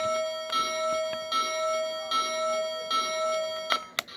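A LionChief Polar Express toy train bell rings steadily with a bright, sustained electronic clang. It is close and alone, and a few sharp clicks come near the end.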